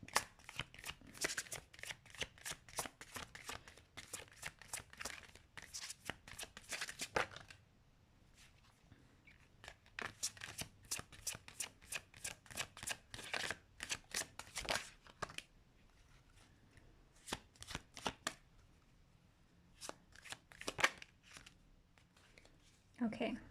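Tarot cards shuffled in repeated bursts of rapid riffling and flicking, close and crisp, with brief pauses between rounds and a soft voice occasionally speaking.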